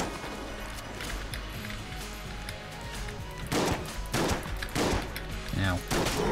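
Gunfire from the video game Enter the Gungeon, a scatter of shots and bursts over steady game music and background noise, with sharper repeated blasts in the last few seconds.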